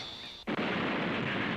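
Sniper rifle gunfire from an animated Dragon Ball episode, a single sharp report that gives way to a loud, sustained roaring blast and rumble with no speech.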